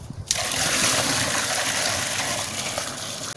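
Water gushes steadily from a freshly primed hand water pump at a well, a loud, continuous rushing splash that starts abruptly and holds strong throughout without any talking.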